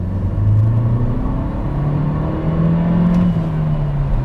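Dacia Duster 1.3 petrol engine accelerating hard in second gear from about 30 km/h, a loud, close, droning rumble whose pitch climbs steadily, drops at a shift and rises again.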